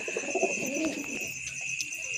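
Soft pigeon coos from a perched satin pigeon, a few low murmuring calls close by early on, fading to quieter background with faint chirps.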